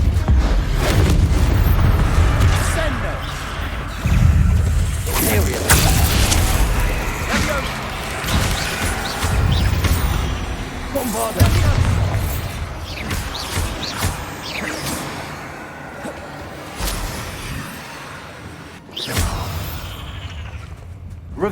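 Levioso and Depulso spell effects in the game Hogwarts Legacy, with a string of deep booms, whooshes and impact thuds rising and falling over about twenty seconds, layered over game music and other action sounds.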